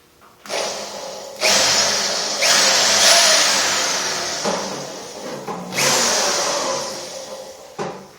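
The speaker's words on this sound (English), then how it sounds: "Alright, let's drill a hole through everything." Power drill boring a hole through a cyclekart frame during an engine install, close and loud, whirring in several bursts with rising and falling pitch under load and short pauses between.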